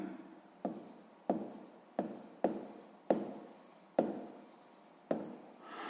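Short scratchy strokes of writing on paper while working out a sixth-grade maths exercise with mixed numbers and fractions, about eight distinct close strokes in an uneven rhythm, each starting sharply and trailing off, with no talking.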